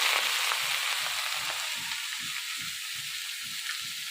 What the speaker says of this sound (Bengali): এই রসুন দিয়ে শাক ভাজা